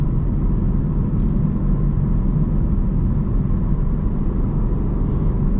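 The V8 of a Lexus IS500 rumbles steadily at cruising speed, a dense low drone mixed with road and cabin noise, heard from inside the car with no talking.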